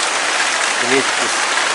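Steady rain falls at home after a fishing trip, a dense, even hiss filling the whole clip, with a brief voice murmuring faintly under it.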